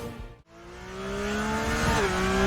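A Porsche 911 race car engine in a racing video game on the Nürburgring revs loud and steady, its pitch climbing as it accelerates after a brief dip, then settling after a gear change.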